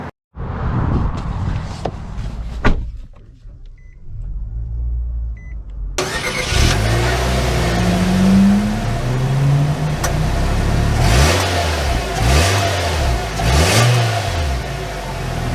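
A 2022 Nissan Kicks SV engine starts up, then revs and pulls away, its loud, close drone climbing and falling through several gear changes as the car drives.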